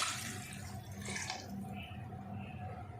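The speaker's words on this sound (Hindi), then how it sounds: "अब डाल देते हैं इसमें पानी।" Water being poured into a pot for chicken yakhni, a steady, moderately loud splashing and trickling stream running continuously from start to end with no talking over it.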